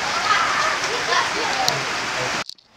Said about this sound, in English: This rain is wild.